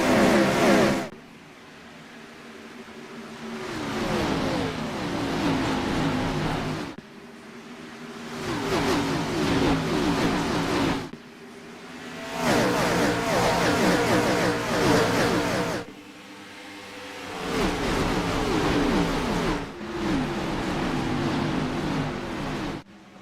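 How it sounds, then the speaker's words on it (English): Gen 4 stock cars racing at Darlington in iRacing roar past in repeated waves, engines rising and fading as each pack sweeps by, loud and continuous with no talk. "Listen to these cars rumble."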